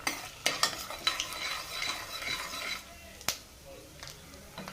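Mustard seeds, urad dal, chana dal and peanuts frying in hot oil, a steady crackling sizzle with quick popping and rattling, broken by a few sharp utensil knocks against the pan.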